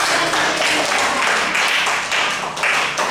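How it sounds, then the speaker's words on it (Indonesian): Classroom applause for a classmate, a dense burst of many hands clapping together that holds steady for a few seconds, with faint voices mixed in. "Tepuk tangan dulu temannya."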